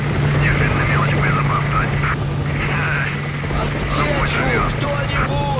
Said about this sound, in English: So we have Hind helicopters that always patrol this area